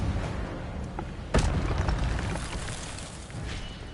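A fire spell burst in Hogwarts Legacy: a sharp whooshing boom near the start, followed by a crackling, rumbling flare that fades over a few seconds of game ambience.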